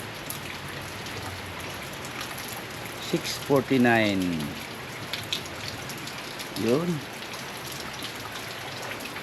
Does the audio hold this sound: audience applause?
no